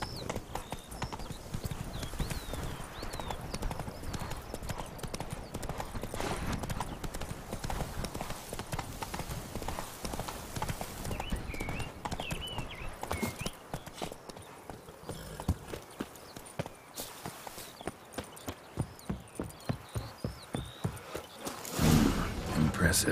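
Galloping horse hooves in The Witcher 3: Blood and Wine, a steady rapid clip-clop rhythm running throughout, loud and close, with occasional speech and a brief whinny near the end.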